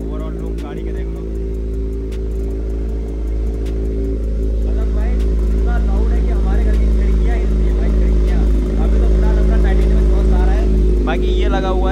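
A Royal Enfield Continental GT650 fitted with a Red Rooster exhaust idles with a loud, steady, deep engine rumble throughout, with someone talking over it.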